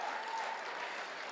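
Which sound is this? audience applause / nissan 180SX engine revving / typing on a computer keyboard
audience applause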